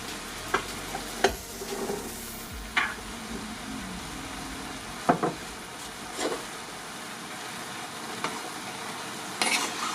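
A spoon stirs lasagna sauce with black olives in a sizzling pan, giving irregular scraping knocks and clinks over a soft continuous frying hiss, close and moderately loud, with no talk.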